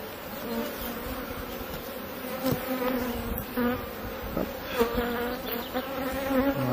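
Honeybees at an open beehive fill the air with a dense, steady buzzing hum, close and continuous, with individual bees droning louder as they fly past.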